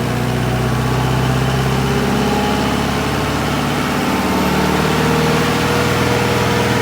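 An AERO JetGo 900 ground power unit runs at 2400 RPM with a loud, steady engine drone and low throbbing hum, unbroken and close throughout.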